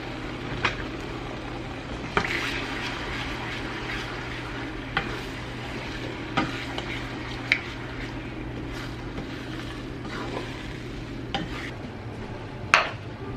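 Scrambled eggs with milk stirred in a pan over a soft, steady sizzle, with periodic scrapes and taps of the utensil against the pan and no speech.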